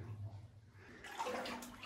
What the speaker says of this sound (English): the water is coming out of the ceiling